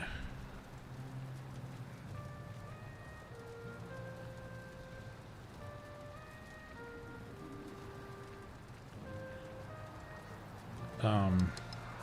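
Steady rain patters in the video game Valheim, a soft, constant wash beneath gentle melodic tones, with a brief louder clatter near the end.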